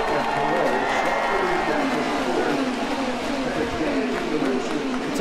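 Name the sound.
crowd cheering at the Indianapolis 500 race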